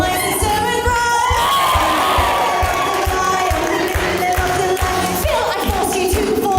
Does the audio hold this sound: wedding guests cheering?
yes